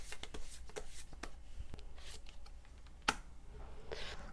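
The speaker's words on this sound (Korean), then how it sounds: "카드의 조언 뽑아보도록 하겠습니다" Tarot cards being shuffled before a draw give a quiet series of soft, papery riffles and taps, with one sharper slap partway through.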